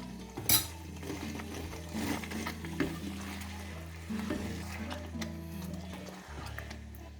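Rabbit meat with masala frying in a pan, a steady sizzle under the scrape and clatter of a stirring spoon, close, with one sharp clink near the start and a low hum beneath.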